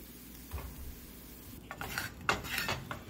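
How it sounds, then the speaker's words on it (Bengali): A kadai is shifted across the stove and potatoes are lifted out of it, giving quiet metal clinks and scrapes of utensil against the pan that grow busier and louder toward the end, with no talking. "কড়াটাকে এপাশে নিয়ে নিয়েছি আর আলুগুলো তুলে নিলাম।"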